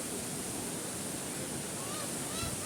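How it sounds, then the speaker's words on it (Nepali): Steady, full roar of a waterfall in Khotang, Nepal, heard up close as a dense, unbroken rush of falling water. "यहाँ हेर्नु झर्ना यस्तो"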